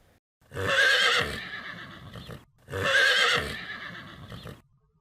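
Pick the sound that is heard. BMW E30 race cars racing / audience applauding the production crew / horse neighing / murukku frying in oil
horse neighing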